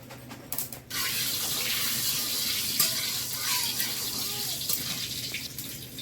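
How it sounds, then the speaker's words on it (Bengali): Greens hiss and sizzle in hot oil in a wok, a loud steady rushing crackle with scattered clinks and stirring scrapes after a brief quieter start. "কড়াইয়ে তেল দিয়ে দেবো প্রথমে ওই শাকটা ভাজবো"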